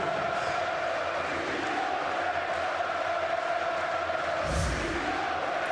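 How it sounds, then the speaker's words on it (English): Loud, sustained crowd roar of a packed basketball arena in Istanbul during a EuroLeague game, a steady wall of cheering and whistling ovation for a fouled-out player, with a brief deeper swell near the end. "Listen to this ovation."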